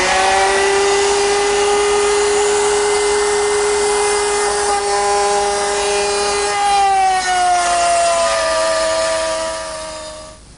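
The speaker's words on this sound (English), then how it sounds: "Now I'm not going to cut the whole depth at once, just about half in the first pass." A router cuts a groove in wood on a first partial-depth pass, a loud continuous whine with steady tone that dips slightly in pitch partway through as it loads into the cut, then fades at the end.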